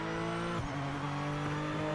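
A race car engine in the Project Motor Racing video game drones loud and steady, with pitch dipping on a shift or lift and then holding, a continuous close mechanical hum with no talk.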